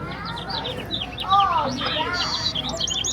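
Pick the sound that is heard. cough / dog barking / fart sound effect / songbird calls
songbird calls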